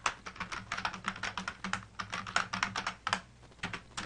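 Computer keyboard typing, heard as a quiet, steady patter of rapid keystrokes with brief pauses, close by and without voices.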